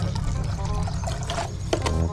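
Water poured for a gold dumbo ear betta fish, a steady low liquid rush lasting about two seconds at moderate loudness with no talk over it.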